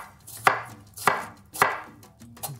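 Knife chopping jalapeños on a cutting board, three sharp, evenly spaced chops about half a second apart with a fourth lighter one at the end, close and clear with no talking.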